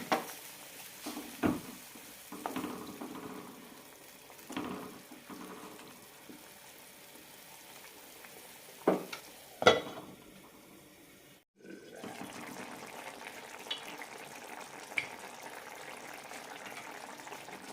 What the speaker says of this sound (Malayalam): അടച്ചു വെച്ച് വേവിക്കാം തിളയ്ക്കാൻ തുടങ്ങിയിട്ടുണ്ട് അടച്ചു വയ്ക്കാം ഇടയ്ക്കൊന്ന് ഇളക്കാം